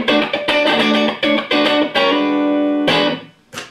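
Electric guitar with a full-on humbucker, played through a Soldano Astroverb 16 1x12 combo amp on its single channel, rolled back to a clean tone: loud, ringing chords strummed in a choppy rhythm, then a long sustained chord and a final stab, with no talk.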